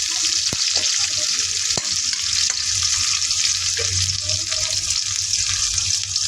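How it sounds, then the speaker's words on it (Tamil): Garlic and green chillies sauté in a pan with a constant bright sizzle, broken by a few sharp taps and scrapes of a spoon against the pan; no voices. "வெள்ளைப்பூடு, பச்சை மிளகாய் எல்லாத்தையும் ஒன்றாவே சேர்த்துக்கொள்கிறேன். சேர்த்துட்டு இதை நாங்கள் வதக்கி எடுத்துக்கொள்ளுவோம்."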